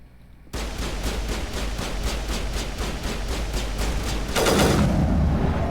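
Rapid automatic gunfire from a Mass Effect firefight, a steady burst of evenly spaced shots lasting several seconds, loud and close, swelling into a denser, heavier blast near the end with no talking.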